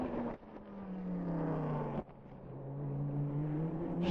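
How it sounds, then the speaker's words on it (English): Schneider's Mercedes race car accelerates away from the bumpy Arnage corner during 1999 Le Mans qualifying. The engine note climbs steadily, breaks sharply at two gear shifts and climbs again, heard at a distance. "It's quite bumpy as they come there into Arnage and accelerate away."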